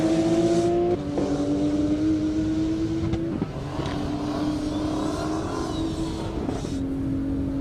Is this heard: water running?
no